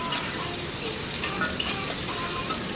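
Sliced onions fry in oil in a kadai with a steady, close, crackling sizzle that holds evenly throughout.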